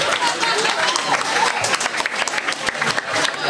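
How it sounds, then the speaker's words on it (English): An audience at a civic talk gives a round of applause for a couple on a date, steady dense clapping from a room full of people for a few seconds. "if we could give them a round of applause"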